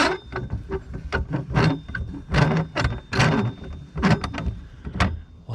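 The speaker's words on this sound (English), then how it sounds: "That's the sound of this worm gear right here needing lubrication" The worm gear of a 2015 Tab Max-S trailer's stabilizer jack squeaks as it is cranked, a rapid series of close, scratchy chirps and creaks in an uneven rhythm, each turn squealing for lack of lubrication.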